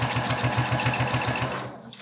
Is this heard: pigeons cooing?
no